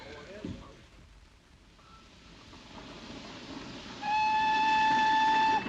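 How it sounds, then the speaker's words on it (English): A train rumbles in, growing louder, in a 1941 film scene, then a sustained horn-like whistle sounds loudly in the last seconds. "Train's coming in."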